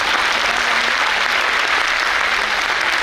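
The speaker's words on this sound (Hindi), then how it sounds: "तो एक बार ज़ोरदार तालियां हो जाएं आपके अपने लीडर्स के लिए।" Sustained applause from an audience, a dense steady clatter of many hands clapping at once, loud and continuous throughout.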